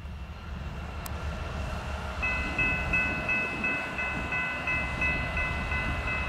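An eastbound freight train approaches on a crossover, with a low rumble building steadily and a sustained tonal whine rising partway through, heard from nearby without talking.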